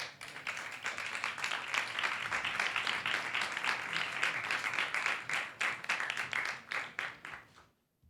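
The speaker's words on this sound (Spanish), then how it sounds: "vamos a recibirles a los tres con un fuerte aplauso" An audience at a podcast conference gives a warm burst of applause to welcome three panelists, dense clapping sustained for several seconds before thinning into a few last claps and stopping.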